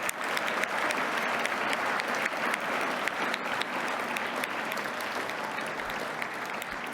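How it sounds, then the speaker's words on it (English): A school AI summit audience gives a big round of applause for two organisers, steady dense clapping throughout at moderate level, with no talk over it. "Big round of applause for Mr. Mack and Julia."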